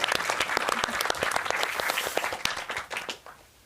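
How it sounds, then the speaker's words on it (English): Conference audience applauding its speakers at a game audio conference in Oslo, dense clapping from many hands, loud and steady before thinning out toward the end. "Please give them another round of applause."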